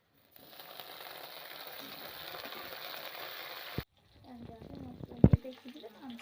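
Onion frying in a pan for a pea ghugni gives a steady, close sizzling hiss for about four seconds. It then cuts off, followed by light clicks and one sharp clatter.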